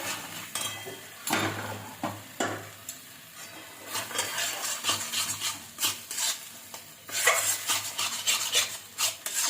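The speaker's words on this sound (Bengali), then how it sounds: "ভালো করে মশলাটা নাড়বো" Grated coconut worked into masala in a pan for a pointed-gourd dolma with meat or fish: repeated rasping spoon scrapes against the pan over a soft sizzle, close up and alone for several seconds.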